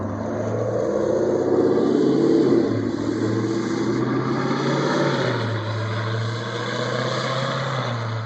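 A car drives past, its engine a steady low drone that rises slightly and then eases off while road noise and hiss fill the background, with no one talking.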